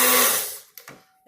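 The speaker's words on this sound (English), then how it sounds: "We pull out the blender." A blender whirs as it mixes herbal powder, the loud motor noise tapering off over about half a second, followed by a couple of brief knocks and a faint lingering tone.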